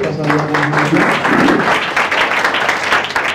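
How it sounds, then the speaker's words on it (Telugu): A church gathering claps to welcome a speaker forward. The loud, sustained applause is close and continuous, with a voice briefly heard at the start. "వారు వస్తుండగా అందరూ కూడా చప్పట్లు కొట్టి"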